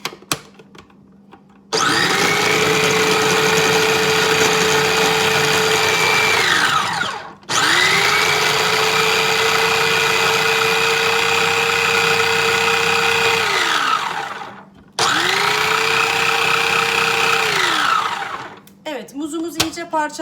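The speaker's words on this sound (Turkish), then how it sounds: "Önce muz kabuğunu koyuyoruz doğrayıcımızın içerisine. Kapağını kapatıyoruz." An electric food chopper blitzes banana peels into a homemade flower fertilizer, its loud whirring motor running in three long bursts separated by brief pauses.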